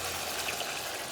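Tempranillo red wine pours into a cooking pot, a short continuous liquid gush with a steady splashing flow, close and fairly quiet.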